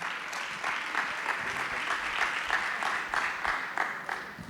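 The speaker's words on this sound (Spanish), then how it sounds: "Lo recibimos con un aplauso." A church audience applauds to welcome a guest speaker, steady mid-distance clapping from many hands sustained throughout at moderate loudness, with no talk over it.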